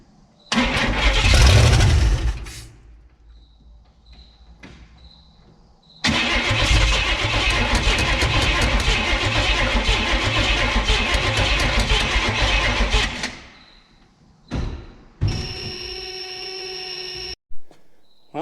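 A 1968 Buick LeSabre convertible barn find, its V8 cranking to life after a carburetor rebuild, catching and running steadily for several seconds, then cutting out and cranking again in short bursts, loud and close.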